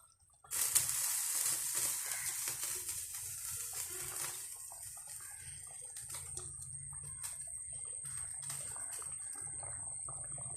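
Mackerel curry bubbling in a pot as washed fish pieces are laid in, a sudden close hissing, bubbling rush that starts after a brief quiet moment and then simmers on steadily with no voices.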